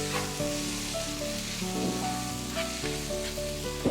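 Masala of onion and tomato for chicken kondattam sizzles and fries in a pan, a dense, steady hiss with faint stirring scrapes, close and continuous with no talking.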